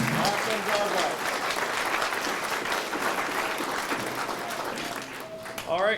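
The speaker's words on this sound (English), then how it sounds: "Trevor Solis, another round of applause." Audience applause follows a community band's spring concert set, a dense steady clapping that carries on for several seconds with a few voices over it.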